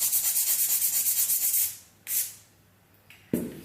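A 100 grit file rubs over gel nails in quick, even rhythmic strokes, close and soft, then stops, leaving a few scattered light scrapes and taps.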